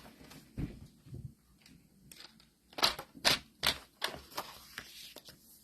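Cardstock being cut for a handmade card, a few sharp snipping and crunching sounds in quick succession mid-clip among quieter handling noises, close and faint, with no talking.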